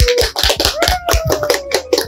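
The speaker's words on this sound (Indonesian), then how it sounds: "Tepuk tangan dulu buat kita semua." Audience applause at an Indonesian health talk show comes as a short burst of rhythmic hand clapping, close and fairly loud, lasting about two seconds.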